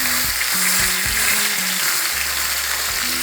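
Seasoned beef browning in a pan, a loud, steady close sizzle running throughout with a low hum beneath, no voices.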